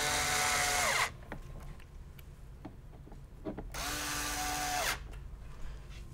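A power screwdriver driving screws into a Yamaha YC30 ribbon strip, two close whirring bursts of about a second each, separated by quiet handling clicks and taps.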